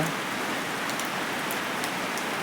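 Steady, dense rain pouring down, a continuous hiss of drops on surfaces with no pauses, close and fairly loud.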